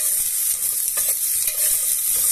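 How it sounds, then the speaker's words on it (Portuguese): Onion and garlic frying in a pan until golden for a pumpkin and dried beef broth, a steady bright sizzle with light stirring scrapes, close and continuous throughout. "Agora nós vamos deixar essa cebola, esse alho dourando"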